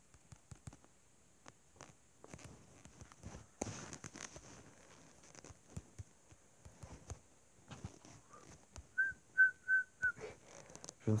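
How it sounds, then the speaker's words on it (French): A person whistles a short run of four or five quick, faint notes near the end. Scattered soft taps and clatter come before it in an otherwise quiet setting. "Je ne sais absolument pas siffler."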